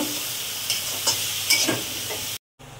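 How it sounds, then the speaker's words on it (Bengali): Elephant foot yam stalk greens and tiger prawns fry in a pan with a constant close sizzle, broken by a few scraping stirs and a brief drop to silence near the end. "ওল শাকগুলো দিয়ে দেব। দিয়ে আবারও 2 মিনিট ভালো করে ভেজে নেব।"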